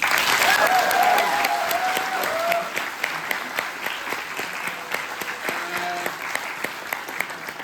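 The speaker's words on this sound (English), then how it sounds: "a round of applause just for the committee" A debate audience claps for the organising committee, a full round of applause that is loud at first and then thins into scattered individual claps, with faint voices underneath.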